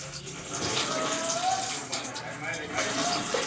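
Water pours and splashes steadily over a person being bathed, a continuous close gushing and spattering that shifts as the stream moves, with voices talking over it.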